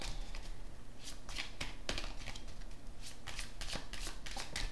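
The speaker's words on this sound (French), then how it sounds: "Elles sont jolies ces cartes, mais elles sont pas faciles à manipuler." A deck of oracle cards being shuffled by hand, a steady close riffle and flutter of card stock with repeated sharp flicks and slaps across the whole stretch.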